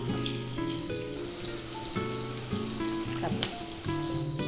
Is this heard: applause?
no